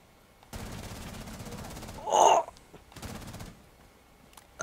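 Gunfire in Rainbow Six Siege on the House map, shooting through walls and a bookcase: a sustained automatic burst, then a louder sharp blast and another shorter rattling burst, close and loud with no talking.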